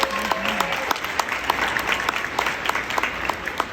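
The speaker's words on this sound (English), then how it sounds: "so we applaud UNLV as well" Audience applause at a university-hosted young women's leadership conference for UNLV, a dense steady patter of many hands, fairly even in level and sustained throughout, with a brief voice at the very start.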